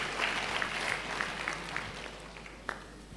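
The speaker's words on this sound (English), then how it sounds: "Shall we give them a round of applause again, please?" An audience at a university congregation gives a cultural troupe a round of applause, a fairly soft, steady patter of many hands with a few sharper claps standing out.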